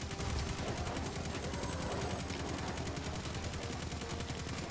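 Sustained video game gunfire, shotgun blasts mixed into a dense, continuous rattle of rapid shots that carries steadily throughout, moderately loud with no talking.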